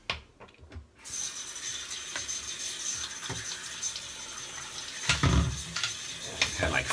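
Hot water runs from a household tap, starting after a brief quiet with a clicking turn of the handle, then flowing steadily with splashing and a few small knocks and clatters nearby.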